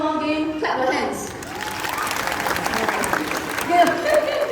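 Audience at a bird park show clapping, a steady patter of applause with some cheers, mixed with an amplified presenter talking over it.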